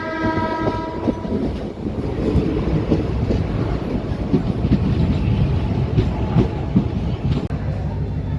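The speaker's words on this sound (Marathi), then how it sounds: "गाडी संख्या 11411 सांगली एक्सप्रेस पोहोचली आहे लातूर रेल्वे स्टेशनवर" The 11411 Sangli DEMU Express arrives at Latur station: a loud, steady rumble of the rolling train with a sustained horn at the start and rhythmic wheel clatter throughout, close by.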